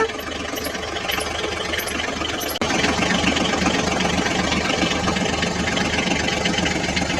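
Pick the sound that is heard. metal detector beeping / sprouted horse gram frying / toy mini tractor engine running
toy mini tractor engine running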